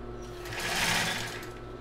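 Up close, a sewing machine stitches the seam of a children's bra, a fast even whirring that swells in the middle and then eases off, with no talk over it.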